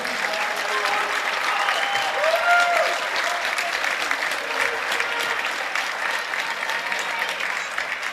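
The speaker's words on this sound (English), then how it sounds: "Give a big round of applause one more time" A high school gym crowd at a Beaver Dam boys varsity basketball senior night applauds the honored seniors and their families, a steady, full wash of clapping that holds without a break for the whole stretch.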